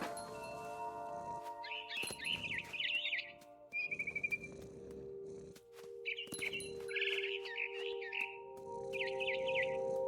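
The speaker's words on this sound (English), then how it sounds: "I tried to be quiet, but the bird was really scared." A small bird chirps in the What Remains of Edith Finch video game. Several high, quick tweeting bursts come at intervals over a quiet ambient hum, with soft movement sounds between them.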